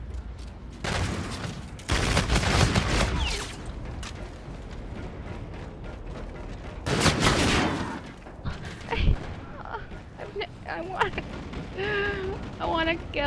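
Shotgun blasts in Call of Duty: Infinite Warfare Gun Game, loud broadband bursts in two heavy clusters with scattered smaller shots and game effects, with a player talking over the action.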